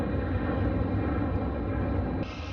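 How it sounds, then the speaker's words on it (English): A fixed-wing airplane passes overhead as a steady, loud broadband engine roar that holds for over two seconds before easing slightly, with no talk over it. "Airplane flying by right now."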